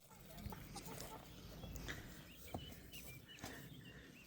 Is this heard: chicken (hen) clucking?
yes